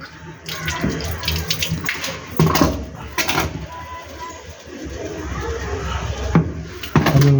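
Water pours and splashes into a container for several seconds, with a few clunks and knocks and faint voices in the background.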